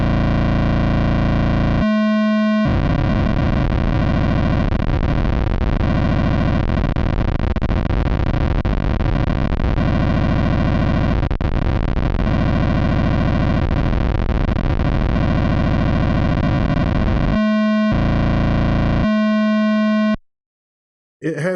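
Atari Pokey chip emulator noise in VCV Rack, a held note whose buzzy, distorted tone jumps between stepped settings as a dial turns, loud and continuous before cutting off near the end.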